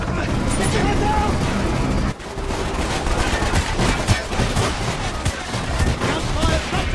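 Dense, continuous gunfire and explosions fill a Call of Duty Black Ops battle scene, loud and sustained, with shouting voices underneath the barrage.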